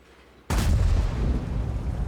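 A single heavy WZ-111 tank cannon blast in World of Tanks erupts after a quiet stretch, a loud booming shot followed by a sustained rumbling roar that lingers to the end.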